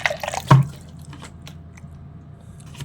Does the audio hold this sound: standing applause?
no